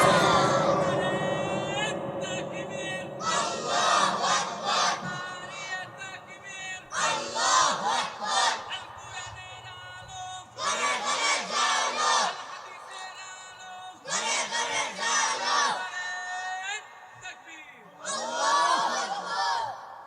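Crowd chanting the Nara-e-Takbir Allahu Akbar slogan at an Islamic sermon gathering, a preacher's amplified call answered by loud mass shouted responses in repeated bursts every few seconds.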